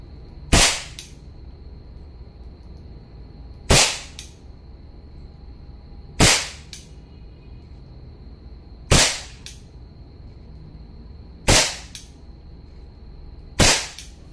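A WE Beretta M92 gas blowback airsoft pistol fires six sharp, loud cracks at steady intervals of roughly two to three seconds, each shot followed by a short metallic clack of the slide, with near silence in between.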